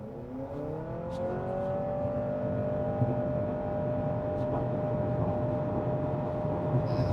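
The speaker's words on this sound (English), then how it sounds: "You just hear a constant whine from that 2-liter engine under the hood." A 2024 Honda CR-V Hybrid AWD Sport Touring with a 2-liter engine, electric motor and CVT accelerates hard. It gives a steady, constant engine whine whose pitch sweeps upward and then holds level, with moderate cabin noise.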